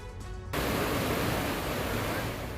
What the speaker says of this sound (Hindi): बरसाती नाला उफान पर है। पानी इतनी तेजी से बह रहा है